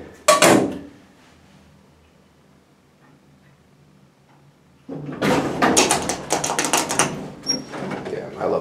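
An Otis HPA-2000 elevator, a 2,000-pound-capacity car, gives a sharp creak or clunk at the start, then runs with a quiet hum, followed by several seconds of loud rattling and creaking from its door and mechanism.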